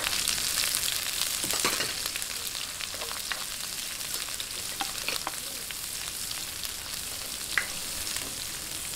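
Garlic and onion fry in a pan for pork pochero with a steady close crackling sizzle, broken by scattered stirring clicks and scrapes. No one speaks.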